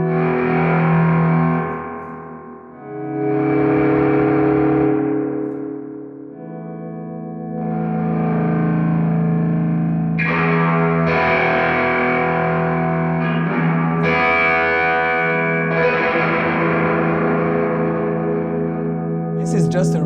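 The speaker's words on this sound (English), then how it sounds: "This is just a reverb." Guitar notes and chords played clean through a reverb effect with the mix fully wet and highs cut, no drive or fuzz, ringing out with long washy tails that smear into one another throughout.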